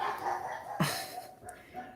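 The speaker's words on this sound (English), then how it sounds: "I got dogs barking in the background here" Dogs bark in the background behind a podcast discussion, with a short louder yelp-like burst near the middle and otherwise faint, distant barking under the room tone.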